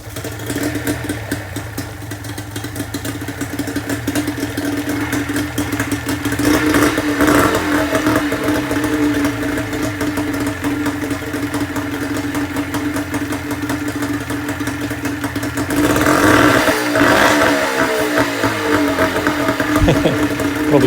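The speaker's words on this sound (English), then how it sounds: "you obviously just want to run the motor and make sure everything is working as it should be" A two-stroke outboard boat motor runs steadily, close and loud, with a buzzing rhythmic drone and a couple of brief rises in revs.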